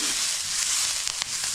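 Onion sizzles steadily in a hot pan while it browns for a Konkan black crab curry. The hiss is bright, continuous and close, with a few faint stirring clicks.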